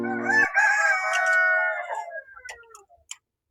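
A Brahma rooster crows once, loud and close, in a long harmonic call that trails off, followed by a few soft clucks and scratchy farmyard clicks.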